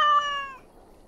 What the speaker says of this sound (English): But I can't keep a cat.